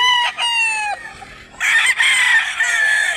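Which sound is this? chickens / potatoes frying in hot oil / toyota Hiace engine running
chickens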